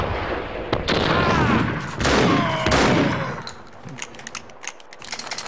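Rapid bursts of gunfire from the action shooter game Max Payne 2 crack in quick succession, dense and loud, then thin out into scattered shots and clatter.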